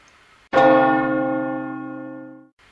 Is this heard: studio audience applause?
no